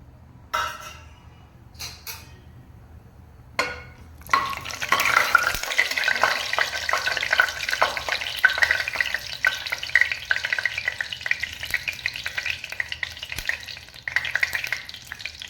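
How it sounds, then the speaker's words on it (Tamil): Cinnamon, cloves and cardamom hit hot oil and ghee for a green peas pulao: a few sharp clinks, then a loud, steady, close sizzle that holds to the end, with no talking. "எண்ணெய் நெய் சூடாயிடுச்சு. நம்ம எடுத்து வச்ச பட்டை, கிராம்பு, ஏலக்காய் போட்டுக்கலாம்."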